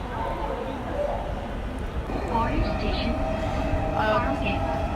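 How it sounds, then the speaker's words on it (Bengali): A metro rail train at the Mirpur 10 station platform, a steady low rumble of the train and station machinery filling the whole stretch, with faint background voices and hum. "মেট্রো রেলের জন্য অপেক্ষা করছে মিরপুর 10-এ।"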